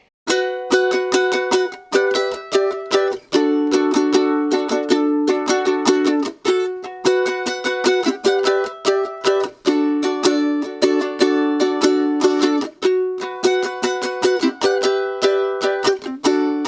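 Ukulele plays the chorus of a song, with steady, bright strummed chords and melody notes ringing continuously and fairly loud for the whole stretch, with no voices.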